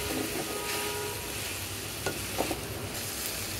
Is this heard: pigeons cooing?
no